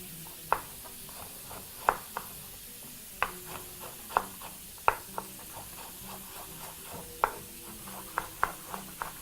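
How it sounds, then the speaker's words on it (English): Carrots and other finely chopped vegetables frying in a pan for pasta, with a soft steady sizzle under a series of sharp utensil clinks and scrapes from stirring, close and moderately quiet, without talk. "So proceed to fry everything in your pan for another 1 minute"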